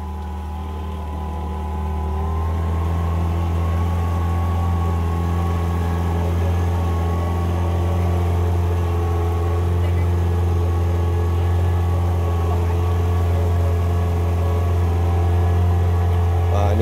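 Small engine on a glass-bottom boat of two joined hulls at Sabang, droning steadily with a low hum that rises slightly after the first couple of seconds and holds, close and continuous.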